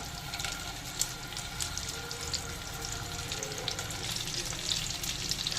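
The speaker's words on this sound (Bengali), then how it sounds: "এবার ওই তেলে টুকরো করে কেটে রাখা আলুগুলো দিয়ে দেবো" Steady crackling sizzle of cut potato pieces frying in hot oil, continuous and fairly close, with small pops scattered throughout and no voices.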